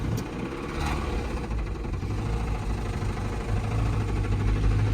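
A Toyota Corolla with a knocking engine idles in neutral, a steady low rumble with a continuous vibrating drone that holds fairly constant, close and alone.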